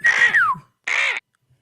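People imitate birds with their voices, producing a rising-then-falling squawk followed by a shorter harsh caw, loud and close with a clear pause between the two calls.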